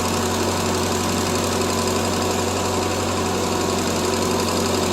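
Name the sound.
1975 Triumph Spitfire 1500 engine idling high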